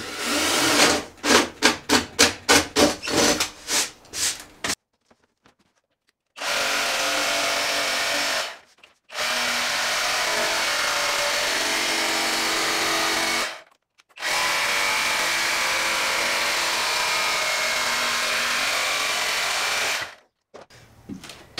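A power drill bores through a ceiling panel inside a narrowboat, first in short stuttering pulses and then in long steady whirring runs separated by pauses, loud and close.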